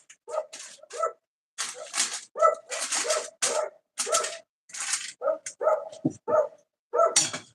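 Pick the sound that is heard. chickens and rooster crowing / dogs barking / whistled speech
dogs barking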